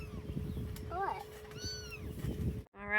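A mother cat meows out in a small-farm garden, with a couple of clear rising-and-falling calls near the start and middle, over steady outdoor background noise.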